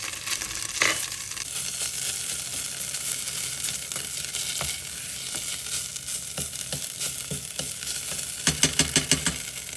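Tomato paste sizzles and fries steadily with sautéed onions in a pan for Erzincan soup, a dense, continuous crackle with faint stirring scrapes and a few sharper pops near the end, with no talking.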